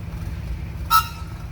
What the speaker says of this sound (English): How about a whistle, Andrew?